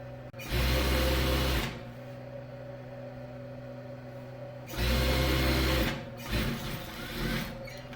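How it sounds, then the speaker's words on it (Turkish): A sewing machine stitches a zippered pillow cover without an overlocker, running in two loud bursts of steady whirring separated by a quieter pause, then a shorter final burst, close up with no talk. "Bakın bu şekilde overlocksuz temiz bir dikiş çalışması yaptık."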